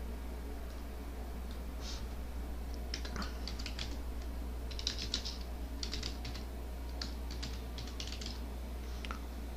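Typing on a computer keyboard, quiet irregular bursts of key clicks over a low steady hum, no talking.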